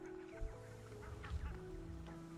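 A few low, nasal honks from greylag geese, fairly faint and scattered over a steady background hum.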